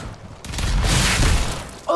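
Rockets detonated in Doom 2016 multiplayer: a loud, rumbling explosive boom swells and lingers for about a second, with a voice breaking in at the end.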